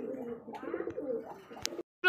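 A male khaki pigeon coos repeatedly in a low, throaty, rolling rhythm, close and fairly soft, ending with a short sharp click.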